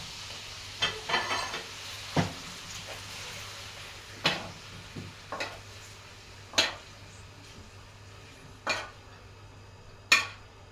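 Alexandrian-style liver sizzles softly in a pan over low heat while a utensil scrapes and clinks against the metal every second or two in uneven strokes.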